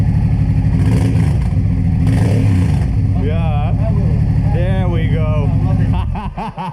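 A custom Honda Transalp motorcycle with a baffled exhaust runs loud and close, its engine droning steadily throughout while voices talk over it.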